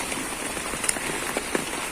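Heavy summer downpour in a garden in Kyiv Oblast, a dense continuous hiss of rain with scattered sharper drop taps on nearby surfaces, moderately loud and without voices.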